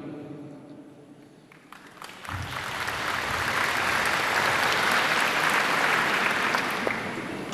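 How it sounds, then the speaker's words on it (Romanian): An indoor audience breaks into sustained applause after a speech, opening with scattered claps that swell into dense, loud clapping lasting several seconds, with no talk over it. "Aceste aplauze cu siguranță nu ar fi fost dacă lângă mine nu ar fi existat o echipă puternică"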